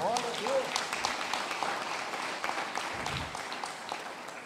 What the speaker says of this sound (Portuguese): Aplaude a Deus, aplaude.